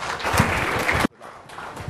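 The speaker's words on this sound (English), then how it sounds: "Let's give him a big round of applause." Audience applause welcomes a speaker to the stage at a talk: a loud, dense wash of clapping that cuts off abruptly partway through, followed by quieter room sound with faint scattered claps.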